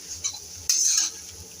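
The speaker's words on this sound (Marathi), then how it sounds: "आता त्यामध्ये हे भिजवलेले चुरमुरे घालायचे आहेत आपल्याला आणि ह्याला छान आपल्याला मिक्स करून घ्यायचं आहे" A spoon stirs soaked puffed rice into a sautéed mixture in a pan: soft scraping, then a louder, brighter scrape in the middle before it settles again.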